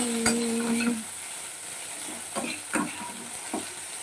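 Potatoes frying in a pan, a steady sizzle with a few clinks and scrapes of a utensil moving them about.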